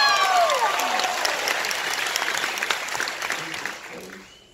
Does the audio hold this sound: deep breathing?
no